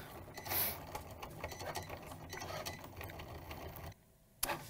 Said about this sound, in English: it looks like the machine is done cutting